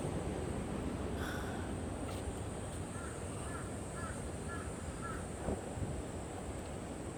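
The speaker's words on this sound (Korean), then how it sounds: "까마귀가 저를 반겨주네요." A crow caws about five times in a steady rhythm at middle distance, heard over a loud continuous outdoor rush of wind or rushing water.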